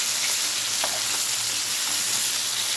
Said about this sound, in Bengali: আগে আমি ভাজি করে নিচ্ছি,